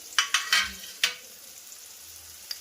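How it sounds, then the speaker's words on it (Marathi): Vegetables cooking in a pan over a low flame, heard as a few short scraping stir strokes bunched near the start, then a soft quiet sizzle with one last faint scrape. "तर आता आम्ही भाज्या टाकले आहेत. तर आता आम्ही ह्याला लो फ्लेम मध्ये पकवण्यासाठी ठेवतोय."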